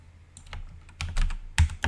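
Typing on a computer keyboard: a few scattered key taps, then denser clusters of clicks, close and clear with no talking.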